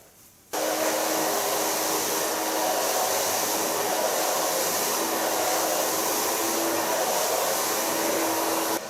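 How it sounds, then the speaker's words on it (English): A hair blow dryer runs continuously at close range after a quick start, a loud steady broadband whoosh with a faint motor hum, used while styling hair to a silver gray color. "This is to protect the hair for the heat of the blow dryer."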